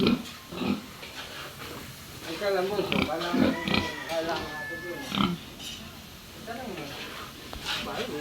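A pig kept at a house grunts and oinks in rough, repeated snorts, close by, mixed with people talking and some background hiss.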